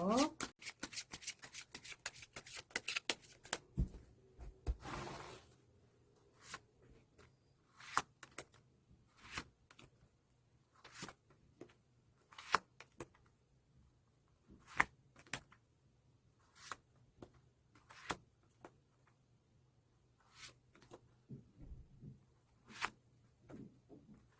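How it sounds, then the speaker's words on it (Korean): A deck of tarot cards is shuffled up close, with a dense riffle at the start followed by a long series of separate, sharp card slaps and flicks spaced irregularly against a quiet background. "그럼 셔플 진행하겠습니다."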